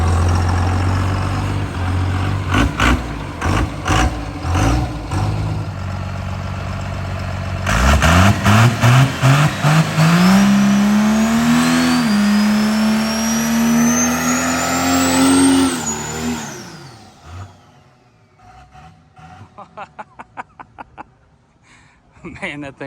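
A blown-up Cummins diesel burnout truck cranks in repeated bursts, then catches and revs hard, its roar rising for several seconds before dropping off, followed by more intermittent cranking. People talk over parts of it.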